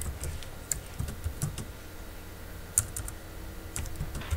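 Quiet, scattered keystrokes on a computer keyboard as a Wi-Fi password is typed while setting up a TP-Link TL-WR940N router as a repeater, with irregular taps and a few sharper clicks and no talking.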